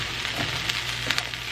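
Chickpea scramble sizzling steadily in a pan on the stove, a continuous crackling fry with a few brighter pops, close and moderately loud with no talking.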